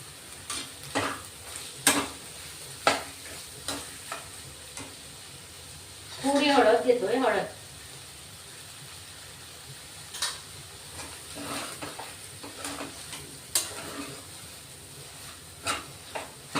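A spiced fresh pea stuffing is sautéed in a pan, giving scattered scrapes and taps of a spoon against the pan, with one longer burst of stirring midway over a quiet background.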